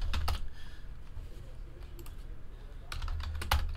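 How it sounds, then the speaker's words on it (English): Quick bursts of typing on a computer keyboard, close clattering keystrokes in clusters at the start and near the end, over a low background rumble. "let me close the trade window officially by typing into the chat"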